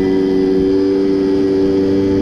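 A motorbike engine runs after carburetor tuning, holding a loud, close, steady mid-pitched drone that rises in revs at the very end, with no talking.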